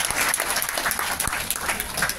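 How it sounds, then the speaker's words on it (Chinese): An audience at a business sharing meeting applauds first-time attendees, with dense, steady clapping that fills the whole moment. "我们给第一次的人最热烈的掌声"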